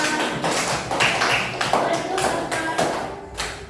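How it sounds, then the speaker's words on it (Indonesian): Classmates clap together in a classroom after a discussion, a loose cluster of hand claps and taps running for a few seconds, with some voices mixed in. "tepuk tangan buat Rasman dan buat Inara"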